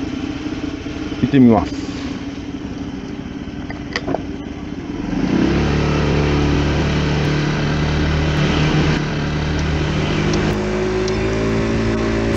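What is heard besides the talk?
Honda Benly business motorbike engine idling and riding off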